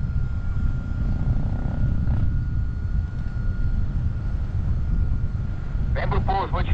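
A light aircraft flies in to land at Maricá, giving a steady, loud, low propeller-engine drone throughout, with a voice speaking briefly near the end.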